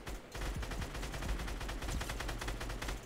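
Rapid automatic gunfire in Fortnite Mobile during a Solid Gold limited-time mode, a dense steady stream of shots lasting the whole stretch with no talking.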